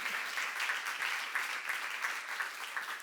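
A church congregation claps steadily during a sermon at a Jesus-centred church seminar, a dense sustained patter of many hands at moderate level with no voices over it.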